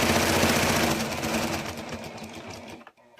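A sewing machine with a walking foot runs a steady, fast stitching whir along a snuggle blanket seam, loud and close, then slows and stops near the end.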